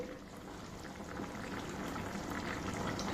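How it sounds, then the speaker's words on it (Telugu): A pot of carrot and potato curry boils steadily, a continuous close bubbling and simmering texture with no talk over it. "ఇప్పుడు లిడ్ తీసి చూద్దామండి ఒకసారి. బాయిల్ అవుతుంది చూడండి."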